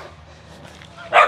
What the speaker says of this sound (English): You hear dogs? My dog got a friend.